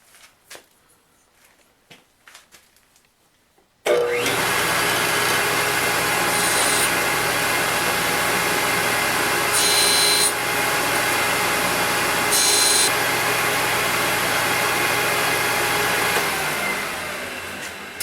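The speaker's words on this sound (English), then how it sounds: "I'll grind it down until it matches the bevel on these two edges" A bench grinder grinds a bevel on a metal squareness comparator piece, starting with a few light taps, then a loud continuous grinding roar that holds steady with brief brighter surges and eases slightly at the end.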